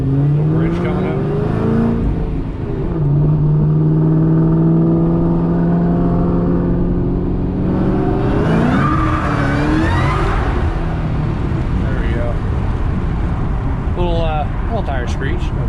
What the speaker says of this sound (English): Man, that thing sounds so good. Blower line never gets old, man.